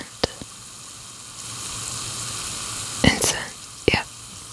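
A bath bomb fizzing in water, a steady soft hiss of bubbling close up, with a few brief clicks and handling noises over it.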